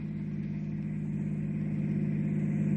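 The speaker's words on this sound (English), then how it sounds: "Hot rod almost here." A hot rod car approaches with a steady mid-pitched engine drone that grows slightly louder over a few seconds, with no talking.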